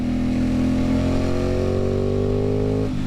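An Aprilia Tuono 660 Factory motorcycle engine, fitted with 16/45 lightweight sprockets, pulls hard under steady throttle. Its loud droning note climbs and then eases at the end, with wind noise behind it.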